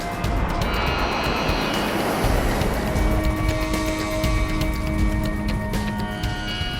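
An airplane aborts its landing and goes around, its engine roar loud and steady throughout, with tonal whines rising in the later part as power builds.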